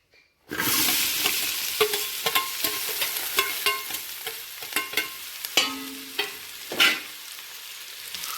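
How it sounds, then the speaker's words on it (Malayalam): Sliced onions sauté in extra oil in a pan after eggs were fried for a biryani, with a loud steady sizzle and repeated clacks of a spatula stirring, close up and without speech. "അപ്പോൾ കുറച്ചും കൂടി എണ്ണ ഒഴിച്ചിട്ട് നമുക്ക് ഉള്ളി വഴറ്റിയെടുക്കാം കേട്ടോ."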